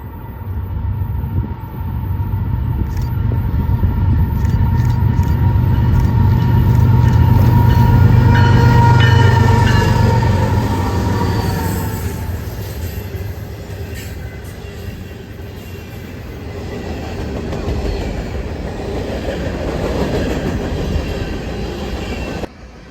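CPKC freight train 249 led by a KCS GE locomotive, a loud rumbling pass with a deep engine drone swelling then fading, followed by steady rolling wheel noise and faint squeals, no voices.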